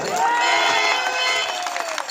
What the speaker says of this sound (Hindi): एक बार जोरदार ताली बजे